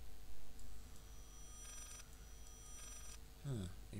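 A telephone rings inside the horror video game Layers of Fear, with bright repeating electronic ring bursts in two spaced pulses against a dark ambient hum, and a voice briefly heard near the end.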